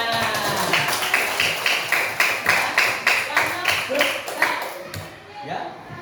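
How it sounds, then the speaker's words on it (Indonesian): A grade 3 class claps hands together in a steady rhythmic pattern of about a dozen close, even beats, with a voice near the end. "tepuk tangan semuanya"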